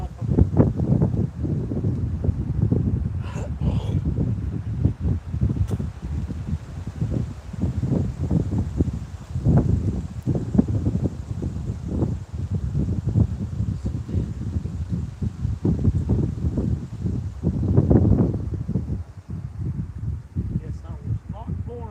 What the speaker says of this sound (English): Yeah, that wind's getting up.